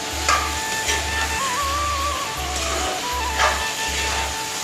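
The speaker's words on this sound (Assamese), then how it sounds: "এতিয়া এনেকৈ মাংসখিনি মই 5 মিনিটমান ভাজি লওঁ" Meat fries in a pan with a steady sizzle as it is stirred, bringing occasional scrapes and clatters, while a low repeating electric hum runs underneath.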